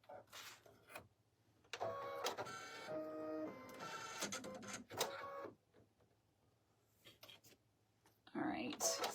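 An embroidery machine stitching an in-the-hoop slap bracelet, whirring and buzzing in close, loud mechanical bursts that start and stop with quiet gaps between them.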